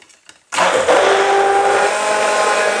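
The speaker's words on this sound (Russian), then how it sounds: "И начинаем опять блендерить." A kitchen blender switches on abruptly after a short quiet moment and whirs loudly and steadily, pureeing soup close by with no talking.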